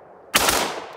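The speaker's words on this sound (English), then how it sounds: "American Tactical 60 round to work with my Bushmaster that I know for a fact can bump fire" An AR-15 pistol from Bushmaster, fed from an American Tactical 60-round magazine, fires a brief burst of shots in quick succession, loud and close, with the echo trailing off over the rest of the second.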